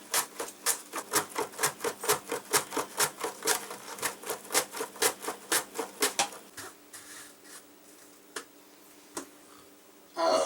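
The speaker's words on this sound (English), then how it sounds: "So we're going to slice these up and fill up this bottom tray real fast." A knife slices fresh strawberries on a cutting board for dehydrating, about two dozen quick, evenly spaced chopping taps, close and crisp, before stopping, with a few scattered knocks afterward.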